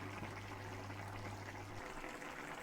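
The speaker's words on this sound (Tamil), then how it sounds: "இந்த குழம்பு பார்த்தீங்கன்னா நல்லா கொதிச்சிருச்சு" Chickpea curry (kadala curry) bubbling in a pot on the stove, a steady soft seething and simmer with no voices, heard up close and fairly quiet throughout.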